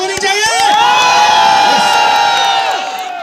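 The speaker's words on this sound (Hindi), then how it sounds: "सर के लिए तालियां थोड़ी जोरदार प्लीज सर" A university star night concert crowd cheering loudly, with high whoops and shrill shouts swelling into a sustained roar, some scattered claps at the start and no clear speech.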